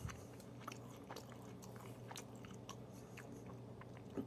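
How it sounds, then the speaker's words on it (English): Someone chewing spicy, lime-flavoured, very dry jerky up close: repeated crisp bites and wet mastication clicks in an irregular rhythm, faint, with no talk. "I'm just chewing."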